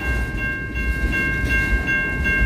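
Late at night a train passes close by in a continuous heavy rumble of rolling cars, steady and loud, with a thin high-pitched squeal of wheels ringing over the clatter and no voices.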